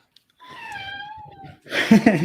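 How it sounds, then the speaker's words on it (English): A cat gives a long, drawn-out meow, clear and close, that fades out before a person starts talking. "Yeah, cat gets a little bit worked up."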